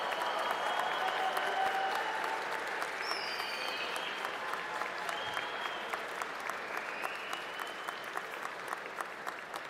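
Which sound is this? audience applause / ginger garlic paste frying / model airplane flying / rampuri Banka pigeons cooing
audience applause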